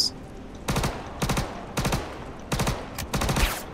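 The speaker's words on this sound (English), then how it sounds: "Oh, he's shooting back." Enemy gunfire in Star Citizen at Ghost Hollow: five separate sharp bursts of rapid automatic shots, evenly spaced about half a second apart, loud and close with quiet gaps between.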